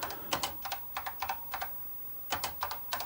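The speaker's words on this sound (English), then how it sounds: "Sorry for the slow typing. I'm typing around a tripod." Slow, uneven typing on a Dick Smith System 80 computer keyboard, with clusters of crisp, close key clacks separated by short pauses and no talking.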